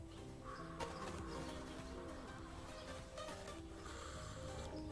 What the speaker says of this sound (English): Ah, the sounds of morning. Early in the morning, Birds singing.